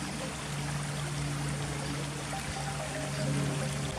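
Steady broadband rush of river water flowing past a measuring point used for current-speed readings, continuous and fairly close with no talk.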